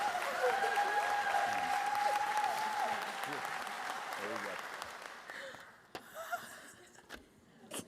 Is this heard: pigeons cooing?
no